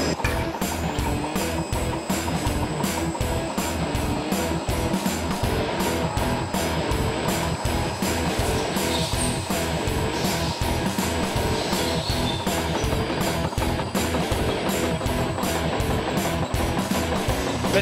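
A gear cutting machine in a motorcycle gearbox workshop cuts a gearbox gear, a steady dense mechanical clatter with fast repeating ticks running unbroken and loud throughout.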